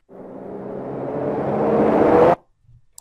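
A swelling riser effect builds steadily in pitch and loudness for about two seconds, then cuts off abruptly, followed by a couple of faint ticks.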